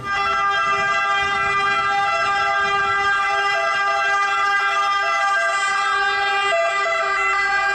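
Toy airplane-style ambulance emits a steady electronic siren tone, continuous and fairly loud up close, with a slight shift in pitch near the end and no talk over it.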